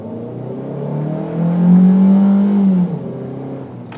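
A car pulls hard at full throttle, the engine note swelling into a loud, rising drone for about a second and a half before easing off abruptly, heard close up from inside.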